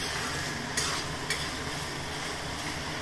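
Soybean curry sautéing in a pan, cooked vegetarian without onion or garlic, giving a steady low sizzle with a couple of brief stirring scrapes.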